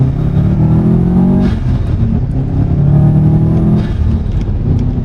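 A Subaru WRX STi engine revs loud and close, its turbocharged note rising and falling in several pulls with no talk over it.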